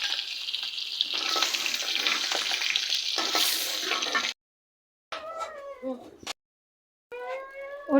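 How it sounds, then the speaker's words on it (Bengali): Eggs frying in a pan of oil for an egg korma, a steady broadband sizzle for about four seconds that cuts off abruptly, followed by short bursts of a cat's meowing with silent gaps between. "ডিমগুলো একটু তেলের মধ্যে ভাইজে নিব"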